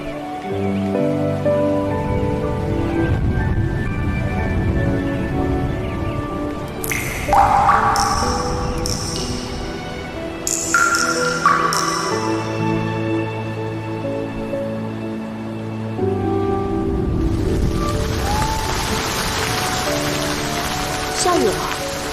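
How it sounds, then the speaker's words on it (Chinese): Rain falls steadily in a period martial drama scene, a constant patter that thickens into a louder wash toward the end, under bright ringing musical tones. "下雨了"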